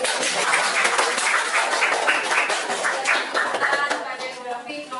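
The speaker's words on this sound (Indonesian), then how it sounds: "kita tepuk tangan dulu." An audience claps in a classroom presentation setting, a dense, sustained round of applause with many overlapping hands that holds steady and then thins slightly toward the end, with some voices mixed in.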